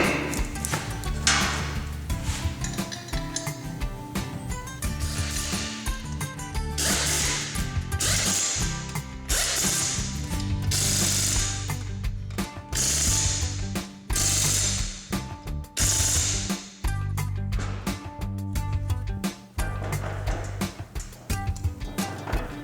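A ratchet works in quick repeated bursts while a Suzuki LTA400F ATV front wheel is tightened in a shop, its clicks coming close and loud with short pauses between runs.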